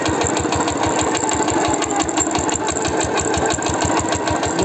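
A small tractor's engine chugs steadily at close range in a fast, even rhythmic thump with a constant roar, no voices over it.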